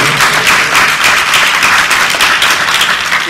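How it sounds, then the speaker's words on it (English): A Comic-Con panel audience bursts into applause, dense steady clapping from a large crowd filling the whole moment without pause. "A round of applause for that."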